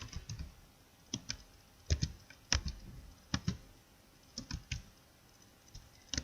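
Irregular bursts of keystrokes on a computer keyboard while entering a formula in an Excel sheet, quiet and close, with short pauses between clusters of taps.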